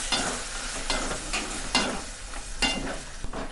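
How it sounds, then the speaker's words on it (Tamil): Mutton gravy masala is stirred in a hot pan, with a spoon scraping and clacking in irregular strokes over a steady sizzle of frying. "நம்ம இப்போ இதை நல்லா கிண்டி விட்டுடலாம்."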